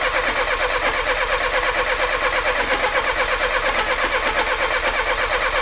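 A Peugeot 305 that sat 33 years in a hedge, cranking on a Lucas rebuilt starter motor: a fast, even, churning rhythm that runs loud and unbroken throughout without catching, with no voices.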